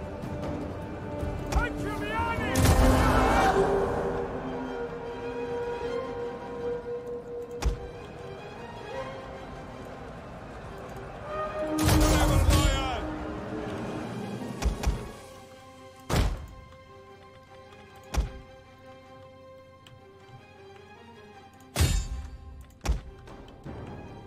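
Ballista artillery fires in Total War: Attila, a series of heavy thunks and impacts spaced across the battle with a couple of louder bursts, over a steady battlefield bed and some talking.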